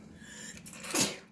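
A single short sneeze sounds close by, with a quick breathy build-up and a sharp burst at the end.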